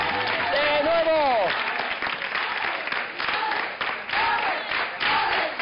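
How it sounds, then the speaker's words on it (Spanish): Loud, sustained applause from a TV studio audience, a dense wash of clapping lasting several seconds, with a presenter's voice ringing out over it at the start. "fuerte, fuerte el aplauso, campeones"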